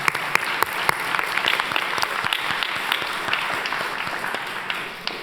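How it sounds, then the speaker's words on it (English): Audience at a civics bee event held at the Nixon Library applauds, with dense clapping, a few sharp nearby claps standing out, and the applause easing slightly toward the end. "Let's give a round of applause for Ethan."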